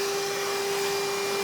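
A vacuum cleaner running at a car show booth during setup, a loud continuous motor whine with a steady pitched hum and airy hiss, no talk over it.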